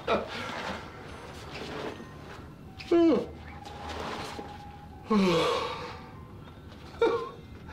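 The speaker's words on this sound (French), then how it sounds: "Un bâillement." Three drawn-out, breathy yawns with gasping intakes and falling moans, spaced a couple of seconds apart, close to the listener with quiet ambience between.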